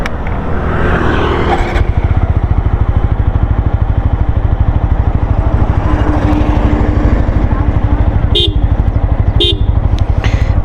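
A TVS Apache RTR 200 4V BS6 motorcycle ridden at top speed: a loud, steady engine drone close by with rushing wind, and a few sharp horn toots from traffic near the end.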